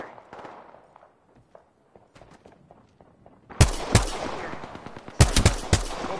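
Video game gunfire: faint scattered clicks and steps give way to loud, close bursts of rapid shots in two clusters, sharp and echoing.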